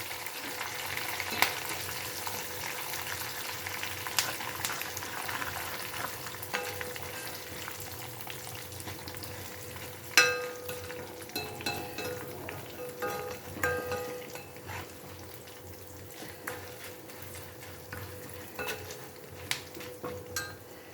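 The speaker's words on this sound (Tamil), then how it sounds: "ரெண்டு கருவேப்பிலையும் போட்டுக்கலாம் இது எல்லாத்தையுமே நம்ம நல்லா பொரிச்சு எடுத்துக்கலாம்" Chana dal and curry leaves frying in oil make a steady low sizzle, with occasional stirring and metallic clinks from a utensil against the pan.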